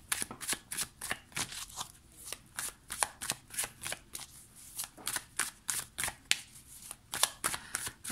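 Oracle cards being shuffled by hand: quick, rhythmic riffling and slapping of the deck repeating steadily for several seconds, close and crisp, with no one talking.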